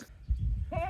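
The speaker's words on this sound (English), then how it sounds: "let's let these goats out before I have to continue listening to the screaming." A goat bleats close by, a wavering, nasal cry rising at the end after a brief low rumble.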